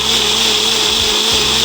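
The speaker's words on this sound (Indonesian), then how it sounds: "Kita blender kencur dan jahe sampai benar-benar halus ya geng." An electric kitchen blender grinds kencur and ginger into a fine paste for Betawi nasi uduk, a loud, steady whirring drone close to the microphone with no pauses or talking.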